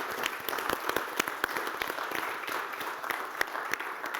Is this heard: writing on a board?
no